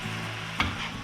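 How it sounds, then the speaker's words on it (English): Ingredients for a venison tater tot casserole get mixed together in a pan, giving a short, close scrape of a spoon with a soft sizzle. "Mix her all together."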